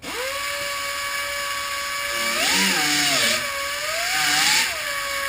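A small high-speed cut-off wheel whines steadily as it trims a cured nose repair, its pitch dipping and rising as it bites into the material in two brief louder cuts, close by with no talk.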